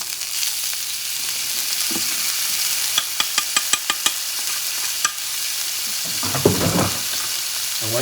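Pork sizzling and frying in a pan for a shrimp and pork fettuccine, a soft constant hiss broken by a run of light utensil taps and a louder burst of stirring near the end, with no talk.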